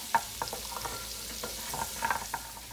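Garlic cloves frying gently in olive oil over medium-low heat, a quiet soft sizzle with light intermittent clicks and scrapes of stirring.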